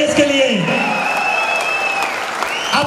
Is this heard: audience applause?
yes